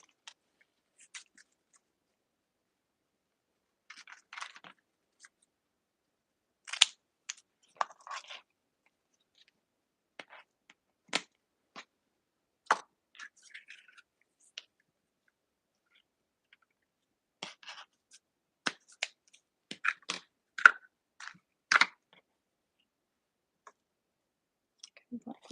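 Vinyl letters are cut in a quiet room with small scattered snips and clicks that arrive in sparse irregular clusters, faint and close, with long silences between.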